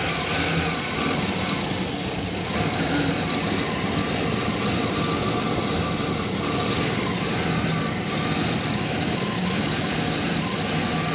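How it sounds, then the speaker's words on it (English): A 2015 Chevy Express van engine with a bank 2 injector fault runs roughly, misfiring with an uneven, continuous rumble close to the microphone, no talking over it. "I moved the wiring harness and the whole car is misfiring"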